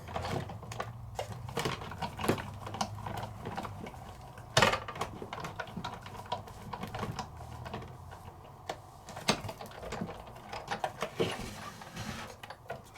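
A Sizzix 3D embossing folder is fed through a die-cutting and embossing machine, a close run of clicking, ratcheting mechanical sounds with small knocks and taps, with no one speaking.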